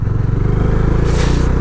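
A Bajaj Dominar 400 motorcycle with its single-cylinder engine running close and loud, a steady rhythmic low thumping that rises slightly as a rushing wind-like hiss swells near the end.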